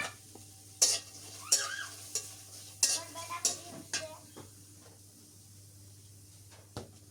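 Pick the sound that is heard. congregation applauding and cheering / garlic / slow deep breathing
garlic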